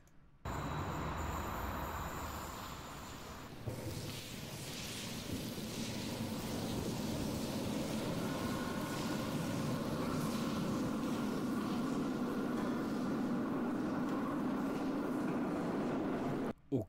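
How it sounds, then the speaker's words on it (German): A subway train runs with a sustained rumbling roar and a brief change in tone early on, then a steady hum building slightly over the long stretch, no voices heard. "Das sieht doch aus wie eine U-Bahn."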